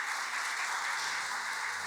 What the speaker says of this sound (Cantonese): 不如我哋就以最熱烈嘅掌聲歡迎車教授到台上